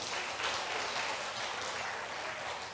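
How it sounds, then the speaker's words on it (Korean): Audience in a Korean church Bible class applauds a participant, a steady wash of many hands clapping at moderate level, sustained evenly throughout with no voices. "옆 사람이 우리 박수 한번 쳐주세요"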